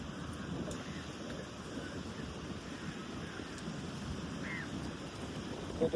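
Steady sea wind rushes over a low, rolling surf-like roar on the coast near Valvettithurai, Jaffna, a constant outdoor wash with no clear talking.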